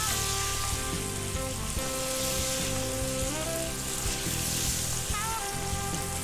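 Lamb meat for rogan josh sizzling and frying steadily in a pan over high heat, a loud continuous crackle with no talking.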